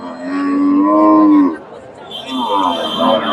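A crossbred dairy cow lets out a long, loud moo close by, followed by the chatter of the Dhap cattle market in Bogura, Bangladesh, and another animal call in the background.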